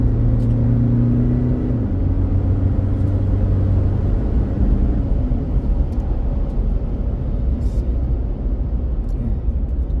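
A Toyota Fortuner SUV accelerates hard on the road, with a loud, sustained engine drone and rumble heard from inside the cabin that rises in pitch early on, then holds a heavy, steady roar. No one speaks.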